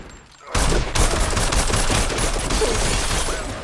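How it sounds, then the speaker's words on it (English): Heavy automatic gunfire in a film scene bursts in after a short quiet moment, a loud, dense, continuous volley of rapid shots lasting several seconds. "He followed, firing non-stop as Alpha moved through the house"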